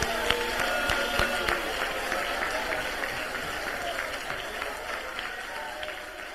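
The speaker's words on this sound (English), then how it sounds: "Clap your hands to the Lord." Church congregation clapping in worship, a steady patter of many hands with some sharper individual claps, moderately faint, with voices faintly mixed in.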